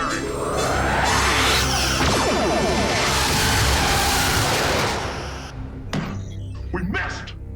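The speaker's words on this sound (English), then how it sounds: "Traces of photons firing." Star Trek photon weapons fire in a loud, dense burst of whooshing, crackling energy blasts that sweeps and fades over several seconds, followed by a few sharp, fainter impacts.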